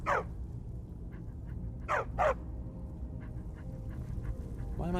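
A dog in the Skyrim video game gives a few short barks and yips, one at the start and a quick pair near the middle, fairly faint over steady background ambience.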